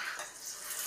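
Hot water running from a sink tap, a steady soft hiss of flowing water splashing into the basin, quiet and continuous with no talking.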